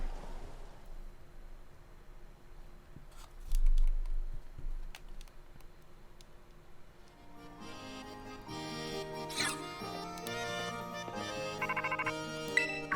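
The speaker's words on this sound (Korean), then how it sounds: "어 전화 왔다." A phone ringtone plays in the video game Pokémon Violet. Quiet clicks and ticks come first, then a bright, repeating electronic melody starts about halfway through and continues to the end.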